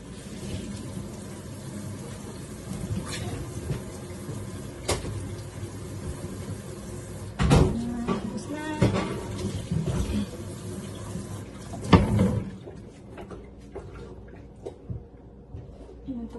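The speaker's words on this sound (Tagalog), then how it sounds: "Tapos na ako maghugas." Dishes being washed at a kitchen sink under a running tap, a steady stream of water with clinks and knocks of dishware rising partway through, close by, and faint voices in the background.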